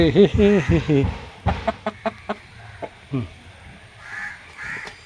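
Backyard chickens calling inside a coop, a burst of loud rising clucks and squawks followed by a string of sharp, spaced clucks and softer calls, fairly close.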